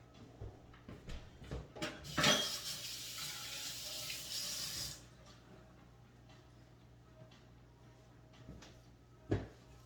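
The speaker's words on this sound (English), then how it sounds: "I'm going to wash my hands now." A kitchen tap runs for a few seconds while hands are washed beneath it, a close hissing stream between small clicks and knocks that stops abruptly, leaving quiet room sounds and a sharp tap.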